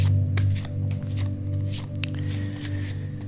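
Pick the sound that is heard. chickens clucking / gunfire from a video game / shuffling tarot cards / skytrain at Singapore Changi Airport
shuffling tarot cards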